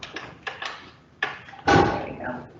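A door at an animal hospital opens with a few clicks and taps, then a louder thud and swing, close by, while a person talks.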